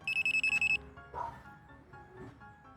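Dog training e-collar beeping, a quick series of about seven evenly spaced high tones, fairly faint, followed by quiet outdoor background with a few soft sounds.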